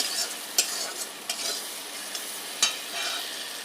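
Ginger-cumin spice masala is stir-fried in a pan with a soft continuous sizzle, punctuated by a few sharp scraping knocks of the spatula.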